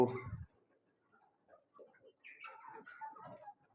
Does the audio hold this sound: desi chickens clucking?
yes